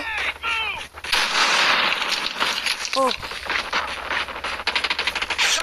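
Dense bursts of PKM machine gun fire in Call of Duty Mobile, rapid and loud, mixed with game effects across the whole stretch, with a brief exclamation from a player near the start.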